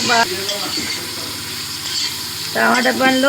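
Tomatoes frying and being stirred in a pan for tomato rice, a crackling sizzle with scraping stir strokes at the start and end and a softer simmer in between.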